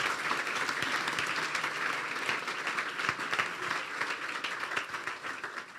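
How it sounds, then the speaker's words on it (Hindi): A church congregation applauds at a Christian service, a dense, steady wash of many hands clapping at once that holds at an even volume throughout, with no voices above it. "खुदा के कलाम के लिए जोरदार तालियां बजा दीजिए।"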